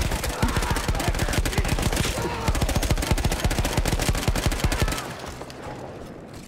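Mounted machine gun in Battlefield 1, set among Austro-Hungarian troops, firing a long rapid burst of sharp, evenly spaced loud shots for about five seconds before stopping, leaving a fading ringing tail.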